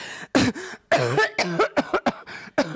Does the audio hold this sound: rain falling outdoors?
no